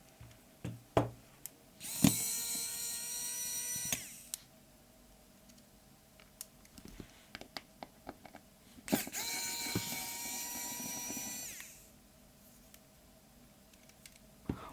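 Screws being driven out of a Samsung Galaxy A30s phone during a repair, with two sustained whirring bursts of an electric screwdriver separated by small clicks and taps, close and fairly quiet.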